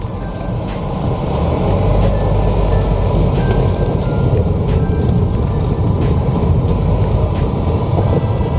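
A long vehicle turns on the steep, winding Keshkal ghat road in Chhattisgarh, giving a steady, loud engine rumble with road and wind roar throughout, broken by faint regular ticking, with no talk.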